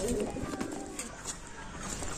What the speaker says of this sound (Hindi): दोस्तों अब दाना खा चुके हैं सारे कबूतर